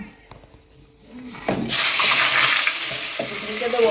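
Fish heads drop into hot oil and burst into a loud, spattering hiss that starts abruptly and keeps crackling steadily, heard close up, after a few quiet kitchen sounds.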